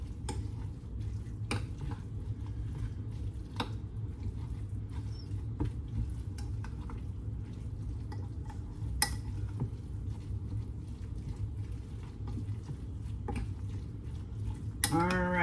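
Green harissa being stirred with olive oil in a bowl: a quiet, continuous wet mixing with scattered light clinks of utensil against the bowl and a sharper clatter near the end, close but faint.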